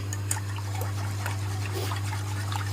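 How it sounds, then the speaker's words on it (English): Milk is stirred vigorously in a pan over high heat for a mac and cheese sauce, giving a continuous wet swishing and sloshing with soft scraping over a steady low hum from the stove, close up and without talk. "I'm going to mix this quite vigorously"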